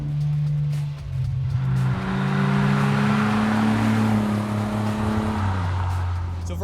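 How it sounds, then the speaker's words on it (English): Stock MK2 Toyota Supra with a 150-horsepower engine drones through its rear exhaust, a steady low hum that swells as the revs climb, then drops in pitch near the end, loud and close with no talking. "that exhaust in the back, which is droney, extremely droney, just drones all the time"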